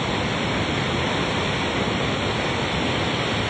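A flooded river in Rasuwa District, Nepal, sweeps away houses, producing a loud, continuous roar of rushing water that stays steady throughout with no pauses.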